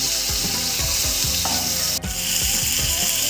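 Pieces of soft bhola fish frying in hot oil in a kadai, a constant close, loud sizzle with crackling spatter and a brief utensil clink partway through, no talking.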